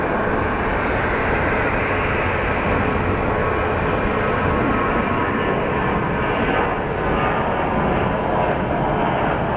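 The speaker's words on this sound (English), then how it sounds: "And here we have a United Airlines Boeing 737." United Airlines Boeing 737 at Phoenix Sky Harbor International Airport, a loud, continuous jet engine roar that holds steady throughout with no talking.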